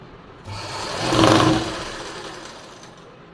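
A sewing machine runs a short stitching burst down the center of a blouse lining, a close whirring hum that swells and fades within a couple of seconds.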